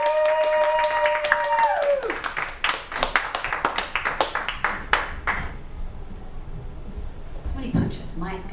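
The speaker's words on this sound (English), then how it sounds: "Let's just have a round of applause as she joins us on stage." An audience at an Austin poetry open mic claps rhythmically for a poet joining the stage, a brisk run of distinct claps that thins out and fades after about five seconds, with voices and a low murmur underneath.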